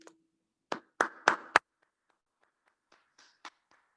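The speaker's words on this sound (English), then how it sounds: "So please, with a resounding round of applause, please make welcome to the lectern" Short bursts of hand clapping at a Toastmasters meeting: a few loud, sharp claps close together, then sparse, fainter claps trailing off into quiet.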